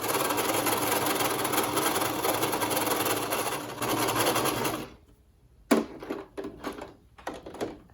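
Sewing machine stitching a children's face mask, a loud continuous whir for several seconds, then stopping, followed by short bursts and clunks of fabric handling.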